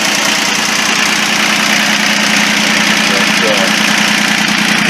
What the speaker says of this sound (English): So there's the diesel running now.